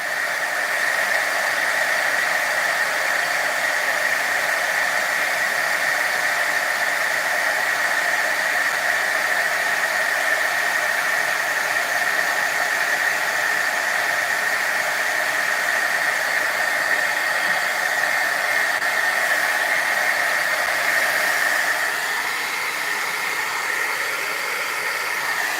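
Embossing heat tool blowing steadily at a craft table, a loud continuous whooshing hiss that holds unbroken for the whole stretch, dipping slightly near the end, with no talk over it.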